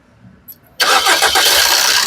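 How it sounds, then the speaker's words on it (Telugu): After a quiet pause with a faint click, a 2015 Maruti Suzuki S-Cross ZETA car engine cranks and catches at once on a single try, settling straight into a loud, steady idle close by. "సింగిల్ సెల్ఫ్ లో కార్ స్టార్ట్ అవుతుంది"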